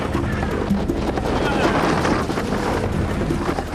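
Outboard boat engine running steadily and close while the boat follows a large fish on open water, with wind buffeting the microphone throughout.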